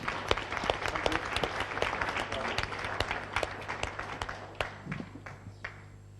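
Applause from a conference audience at a European bioeconomy strategy panel, a steady wash of many hands clapping with sharp individual claps standing out, thinning toward the end.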